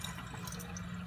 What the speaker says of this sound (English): you're going to fill the Erlenmeyer flask with 50 milliliters of water. So you just use the sink